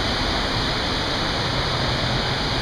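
Swallow Falls in Maryland's Swallow Falls State Park sends out a loud, unbroken roar of falling water, steady and dense with no variation.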